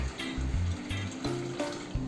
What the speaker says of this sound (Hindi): आधा लीटर मैंने पानी डाल दिया